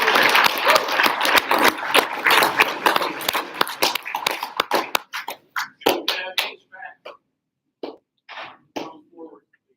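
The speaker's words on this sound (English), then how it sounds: "Give our Fire Academy a round of applause." Audience applause for a Fire Academy group at a senior celebration ceremony. Loud, dense clapping from a sizable crowd for about five seconds, then thinning to a few scattered claps before fading out.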